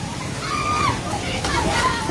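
Severe floodwater surges and sloshes in a constant rushing wash, with a few splashes, under loud shouting voices calling out nearby.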